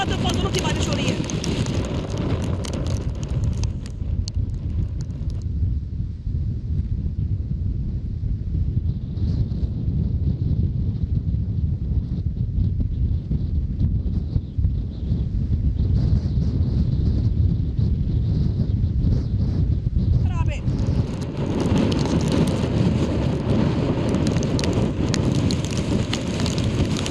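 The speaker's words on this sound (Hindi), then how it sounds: "यहाँ तो बहुत जोरों की बारिश हो रही है" Heavy rain pours and wind roars in Porbandar, Gujarat during Cyclone Biparjoy, a loud, continuous broadband wash with microphone buffeting that eases midway and then surges again, with voices talking over parts of it.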